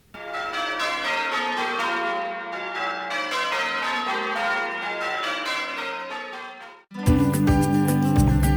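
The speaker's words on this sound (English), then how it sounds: "you might hear cascading bells echoing throughout the neighborhood" Church bells peal in a cascading, overlapping ring across Boston's North End neighborhood, sustained and resonant, then a louder, brighter burst of clanging strikes in near the end.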